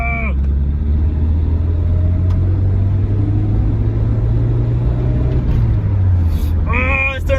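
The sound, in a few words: Nissan 240sx S13 car driving onto freeway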